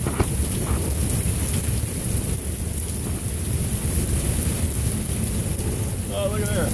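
Heavy rain pours steadily during a Minneapolis thunderstorm, a dense loud roar throughout, with a brief voice near the end.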